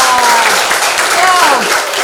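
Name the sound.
applause, people clapping for Tika and Riyad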